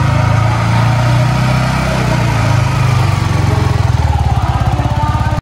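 Yamaha MT15 V2 motorcycle engine, 2022 new edition, running close by with a steady low rumble that settles into a faster, evenly pulsing throb toward the end, no talk over it.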